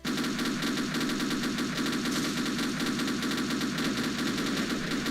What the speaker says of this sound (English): at least they let you use their mounted guns